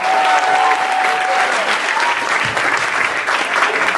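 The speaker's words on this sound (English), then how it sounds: "Give it up one more time for Emilio." Audience applause for a student performer at a school stage event, dense sustained clapping from a crowd for the full stretch, loud and close.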